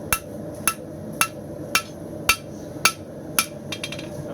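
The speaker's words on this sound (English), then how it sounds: "I'm flipping my bar over, hammering on the opposite side" A hand hammer strikes a round steel bar while forging a knife blade: sharp metallic blows land roughly every half second, loud and close, ringing briefly, with a quick flurry of lighter taps at the end.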